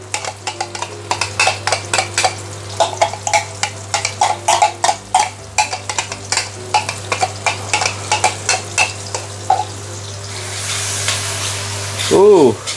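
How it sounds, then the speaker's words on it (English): Sambal sautés in oil over medium heat, its steady sizzle under regular, close scraping strokes of a utensil against the pan. A short squeaky tone sounds near the end. "Use medium heat to slowly saute your"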